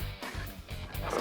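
A trained dog attacking a man in a specially designed protective suit makes rough, rhythmic snarls and grunting growls in quick bursts, close and moderately loud with scuffling noise.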